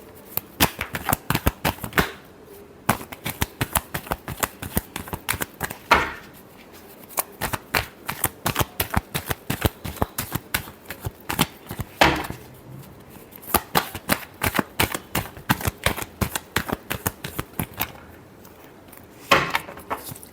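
Tarot cards shuffled in quick riffling bursts, crisp rapid flutters repeating with short pauses over about twenty seconds, close and clear with no talking.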